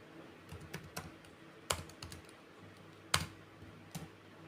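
Typing on a computer keyboard while doing data entry in Tally Prime accounting software, with irregular clicks and a few sharper, louder keystrokes standing out, close and clear in a quiet room.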